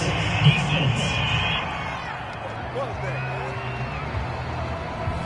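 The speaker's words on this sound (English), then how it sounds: "This home crowd, they're happy with that call." A home crowd at a football game cheers a penalty flag on third down, a broad, steady roar with scattered whoops and shouts under continuous announcer commentary.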